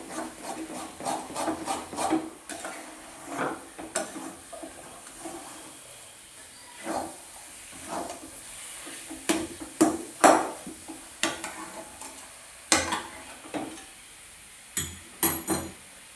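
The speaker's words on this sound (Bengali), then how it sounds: "তো ভালো করে এটা নাড়াচাড়া করে নিতে হবে, নয়তো নিচে লেগে যাবে।" Hog plum pickle is stirred in a pot, thick, soft scraping and squelching strokes repeating irregularly over a quiet background, close and without talk.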